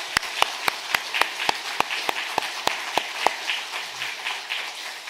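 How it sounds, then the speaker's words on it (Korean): A church congregation claps in quick, steady unison at a service marking the first anniversary of the church building, giving about a dozen sharp, evenly spaced beats that soften slightly toward the end. "감사하시는 분들은 하나님께 박수 한번 하겠습니다."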